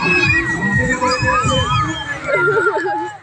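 Crowd cheering and children shouting at a boys' school football match between two rural Thai schools, a loud continuous roar of many voices with high excited shrieks rising and falling throughout.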